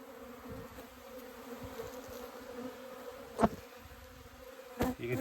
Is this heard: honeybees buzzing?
yes